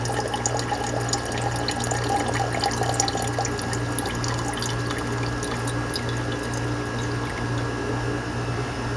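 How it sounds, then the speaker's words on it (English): Water runs steadily from a tap to rinse computer scrap during gold refining, a continuous close splashing rush with a constant low hum underneath, without any speech. "I am going to rinse it a couple more times"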